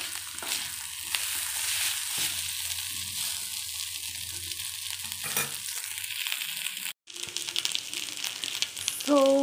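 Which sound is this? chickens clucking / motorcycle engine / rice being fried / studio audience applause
rice being fried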